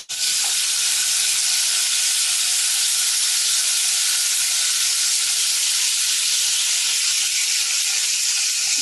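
Pork cooking in a hot pan for japchae, a loud dense continuous sizzle like heavy rain, steady and unbroken from start to finish, with no voices.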